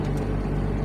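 Diesel engine of a Liugong 922D backhoe running just after startup, a steady close, loud low rumble with no break across a very short stretch.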